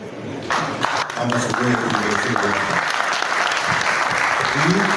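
Audience applause at the installation of a village association's steering committee, steady clapping throughout with a voice talking over part of it.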